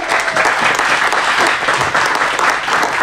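Audience at a stand-up comedy show about mental health applauding warmly, dense steady clapping throughout, close and loud, with no speech.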